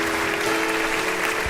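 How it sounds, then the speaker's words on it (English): A crowd applauds steadily at the close of a sitcom-style TV finale, with dense, even clapping that holds at constant loudness throughout. "And the crowd claps."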